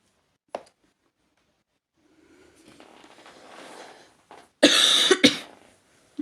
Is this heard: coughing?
yes